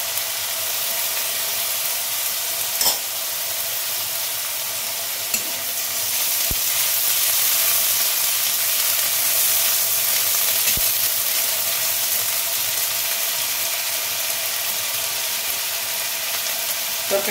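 Garlic and ginger paste sizzling steadily in hot oil in a pan while cooking a spiced taro curry, a continuous close broadband frying hiss with a few brief clicks of stirring and no talk.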